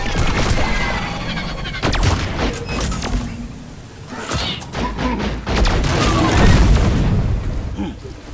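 Dense gunfire and heavy blasts from Deep Rock Galactic play at full volume for the whole stretch, with rapid shots and booms overlapping under voices.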